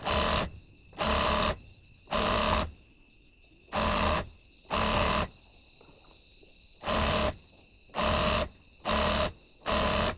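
A sewing machine stitching elastic into girls' pants runs in short loud bursts, about nine separate runs of rapid whirring separated by quiet pauses, close and alone.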